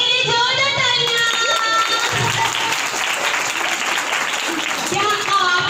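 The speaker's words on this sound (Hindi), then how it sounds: "तो बाजी के लिए जोरदार तालियां" An audience at a Christmas puppet show claps loudly and steadily for several seconds, a dense wash of applause with voices rising over it.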